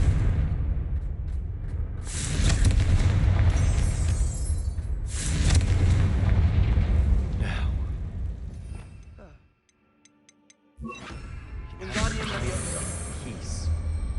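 Confringo blasting curse explosions in the video game Hogwarts Legacy, several heavy rumbling blasts with a brief silent gap between them and spoken voices mixed in.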